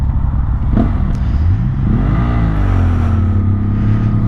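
A Ferrari Testarossa drives past on the road, its engine note rising and sweeping in pitch as it approaches and passes close by, loud and continuous with a rumbling exhaust.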